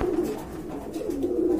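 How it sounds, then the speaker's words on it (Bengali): A rare Surma Khaki pigeon cooing close by, a soft, low, throaty coo repeated in a rolling rhythm. "আর সুরমা খাকিটা হচ্ছে রেয়ার কবুতর।"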